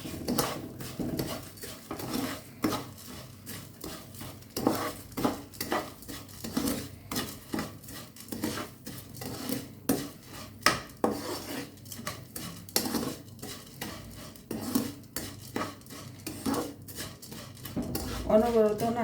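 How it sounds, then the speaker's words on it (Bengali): Flattened rice (chira) being stirred and fried in a pan, with repeated scraping and clinking of a metal utensil against the pan in a steady irregular rhythm, close and moderately loud, with no talk. "অনবরত নাড়তে থাকতে হবে।"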